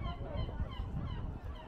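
A large flock of birds calls at sunset in Oslo, with loud, overlapping honking cries packed densely over a low background rumble.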